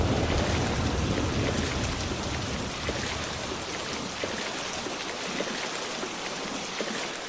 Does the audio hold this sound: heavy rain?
yes